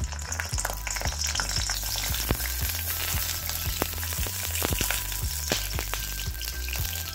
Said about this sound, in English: let's roast it in this oil for at least 5 minutes on a thin flame